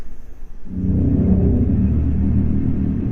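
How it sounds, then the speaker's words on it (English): A deep, loud synthetic engine rumble from the Dodge Banshee electric muscle car concept swells in after a brief quiet moment and holds steady, a throaty roar with no voices. "This is the EV that you didn't see coming, but you'll definitely hear it coming."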